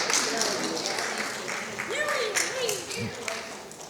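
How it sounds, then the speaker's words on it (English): A school audience claps for five student volunteers, a moderate spread of applause that tapers off, with a few voices and whoops mixed in underneath. "Clap it up for my 5 volunteers"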